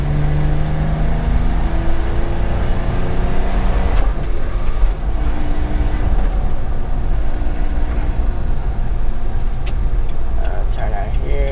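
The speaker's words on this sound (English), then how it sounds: "Put it in third gear, struggling." Suzuki Carry mini truck engine labouring in third gear while driving, a steady loud low drone with harmonic lines shifting as it strains, a few clicks near the end, no talk.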